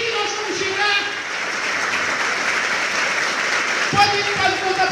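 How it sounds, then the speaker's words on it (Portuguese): A church congregation applauds steadily throughout, a dense wash of clapping with a voice speaking over it. "Aplauda o Senhor."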